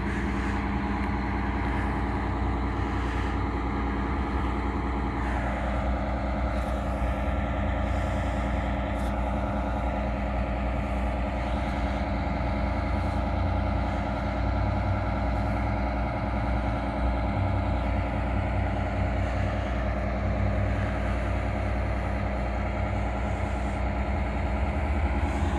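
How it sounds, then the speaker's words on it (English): Buses idling and pulling along outdoors, a steady low engine rumble with a gentle shift in pitch partway through, moderately distant and continuous for the whole stretch, with no voices. "You can hear the buses."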